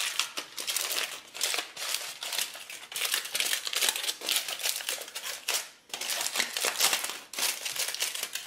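Crinkly foil cooking packet folded up around beets for a slow cooker, close, rustling crackles in uneven bursts with brief pauses, no speech.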